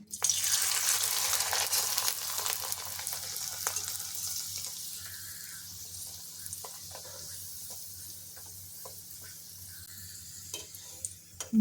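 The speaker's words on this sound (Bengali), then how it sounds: "পাঁপড় ভাজার জন্য তেল চাপিয়েছি, তেলটা গরম হয়ে গেছে। এখন পাঁপড় ছাড়ছি।" Rice flour papad frying in hot oil: a bright, hissing sizzle swells at the start as the papad goes in, then settles into a steady, softer bubbling with scattered pops, no talking.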